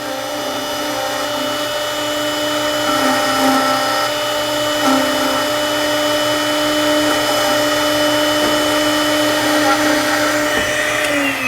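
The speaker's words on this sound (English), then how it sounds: "let the drill bit stop, take out the key" A steady, high-pitched mechanical whine of a drill cutting a key blank, loud and continuous throughout, with a faint change in pitch near the end.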